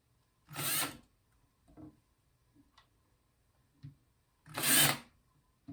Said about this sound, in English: I'm going to have to go back and drill those holes out